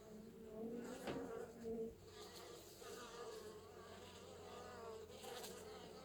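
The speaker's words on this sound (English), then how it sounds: "notice how the bees are very calm. They're just hanging out on the frame" Honey bees buzz steadily around an open hive frame during a beekeeping inspection, a close, continuous drone with occasional knocks from handling the frame.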